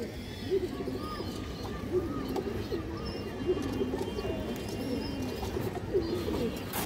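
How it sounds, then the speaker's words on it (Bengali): A Gorra breed pigeon pair cooing repeatedly in rhythmic, throaty phrases, close by, with someone talking over them. "এই দেখেন দর্শক কবুতর ক্রুজে আছে বর্তমানে, বাচ্চা বাচ্চা খাওয়াচ্ছে"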